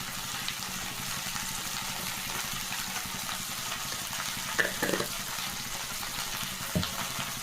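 Okra frying in a pan with salt gives a soft, steady hiss of sizzling with a few faint stirring clicks, heard alone at low volume.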